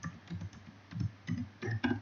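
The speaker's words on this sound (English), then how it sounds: "suppose I am typing here" Someone types on a computer keyboard while working in a word processor, a quick run of clustered key clicks at close range with short pauses between bursts.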